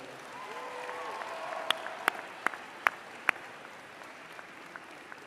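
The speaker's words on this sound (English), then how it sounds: "I want to invite the members of the graduating class to reciprocate by applauding your family, friends, faculty, and staff" At a university convocation ceremony, a graduating class applauds in a large hall: a sustained, moderate crowd clapping with a few sharp individual claps standing out, tapering off toward the end.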